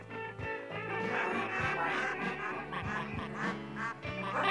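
A person imitates a mallard duck, repeating rapid quacking calls in steady bursts, loud and close throughout.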